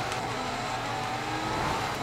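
A car engine revs in the Forza Horizon 4 racing game, a steady loud roar that holds and swells slightly under throttle for the whole stretch, alone without talk.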